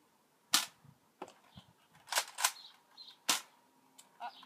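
A Nerf Longstrike CS-6 toy blaster fires darts with sharp, snappy pops, several spaced a second or so apart, with small mechanical clicks between shots. Quiet and fairly close, with no talking.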